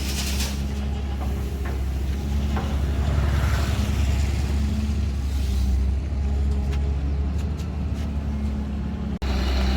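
Damaged Mitsubishi 380 after a rear-end crash, its engine still idling with a steady low rumble, close and constant, with faint clatter and a brief knock near the end.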